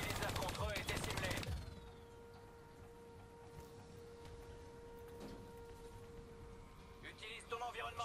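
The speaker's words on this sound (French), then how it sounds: "tu peux utiliser le détournement sur cette tourelle" A hijacked turret in Black Ops 3 fires a loud, rapid burst for about a second and a half, then gives way to a quieter ambience with a steady electronic tone and a few faint distant shots.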